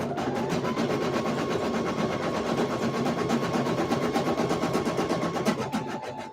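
A sewing machine with a new needle stitches a shirt sample, giving off a fast, steady mechanical clatter, loud and close, that runs without pause and with no voices.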